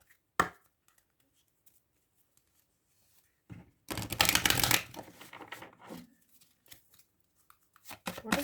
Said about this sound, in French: on va tirer quelques cartes avec le chakra du cœur pour compléter